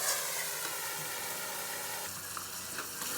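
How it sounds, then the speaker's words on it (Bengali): Small maloti fish and small brinjal sautéing in a pan with mustard-poppy paste, giving a steady, dense sizzle close up that continues without pause and without talk. "তবে ভালো করে এগুলো একটু কষিয়ে নেব"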